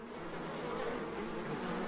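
Thousands of honey bees swarm around a hive guarding their honeycomb, producing a dense, continuous buzzing drone that stays steady and close throughout, with no voices.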